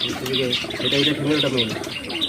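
Fancy steel-coloured lakka pigeons cooing close by in a loft, repeated warbling coos layered with chirpy calls and a voice speaking over them.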